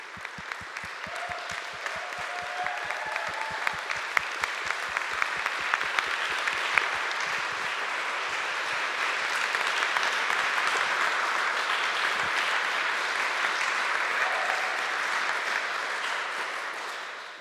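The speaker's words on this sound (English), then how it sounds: "Hey, that's our applause for you." Applause from the audience at a TEDx event in Halle, a long sustained wash of clapping that holds steady and fairly loud, with a few individual claps standing out near the start.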